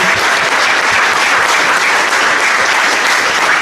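An audience at the Arc of Attrition 2024 ultramarathon awards ceremony gives the race winners dense, steady applause, loud and close throughout without a break.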